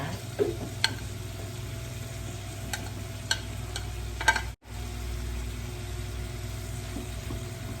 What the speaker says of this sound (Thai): เพื่อนลงไปคั่วในเนยนะคะไปผัดในเนยนะคะ